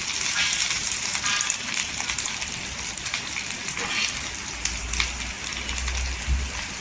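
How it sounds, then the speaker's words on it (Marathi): Chillies sauté in oil on a tawa over a low gas flame, a steady close crackling sizzle like light rain, with faint low rumbling toward the end. "एकदम स्लो गॅसवर ठेवायचं आणि परतून घ्यायचं दोन मिनटं असं तेलावर परतून घ्यायचं"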